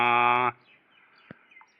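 A single loud bird call rings out briefly near the start, attributed to pigeons at a pigeon show, then it goes nearly quiet with a few faint chirps.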